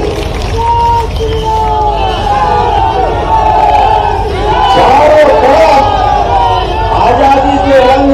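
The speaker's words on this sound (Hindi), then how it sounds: "जोरदार ताली बजाइए" A large crowd at a Tiranga Yatra flag rally with the Madhya Pradesh chief minister cheers and shouts steadily, a loud dense roar of massed voices that swells slightly toward the end.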